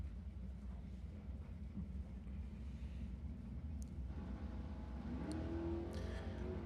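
A drag racing car at full throttle on the strip at Saskatchewan International Raceway during test and tune, a steady distant engine roar that swells slightly toward the end, with wind noise and no talk.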